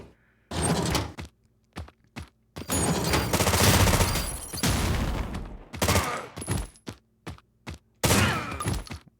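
Grenade launcher fire in the game Terminator 2D: No Fate lands as a string of loud, booming blasts, some in quick bursts and others spaced apart by short silences.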